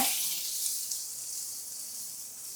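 Onions frying in a pan in a home kitchen, a steady, bright sizzle and hiss that stays even throughout with no talking.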